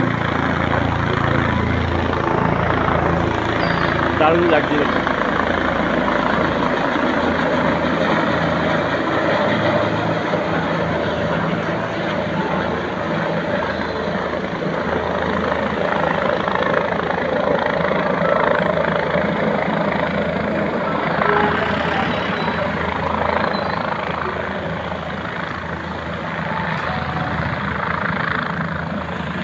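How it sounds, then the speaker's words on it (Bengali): A black military helicopter passes over a mountain valley near Badrinath, its steady rotor drone loud and continuous for about half a minute, swelling slightly, with river rush underneath and a brief spoken remark. "এই একটা হেলিকপ্টার যাচ্ছে,"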